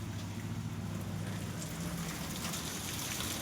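Steady rain falls over a village in Kalar Kheda, a soft continuous hiss with faint patter and a low background rumble, no voices.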